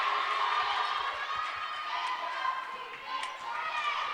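Home crowd cheering at a college men's basketball game in a gym, a steady roar of voices filling the space, with a commentator talking over it.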